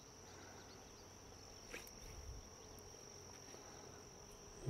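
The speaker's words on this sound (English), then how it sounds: "the butterflies and all the bees are swarming around trying to get some nectar" Honeybees and other insects hover among wildflowers outdoors, a faint, thin buzzing and drone over quiet background, with no speech.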